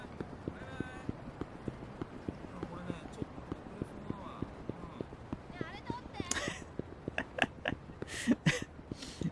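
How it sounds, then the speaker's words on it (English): Footsteps in Yakuza 5 tap in a steady, fairly quick rhythm of light hard-surface hits throughout, with a few louder clicks and thuds near the end. "Man, the footsteps thing is really uncanny."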